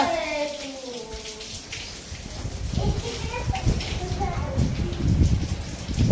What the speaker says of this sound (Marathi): काय पाऊस चाललाय काय पाऊस चाललाय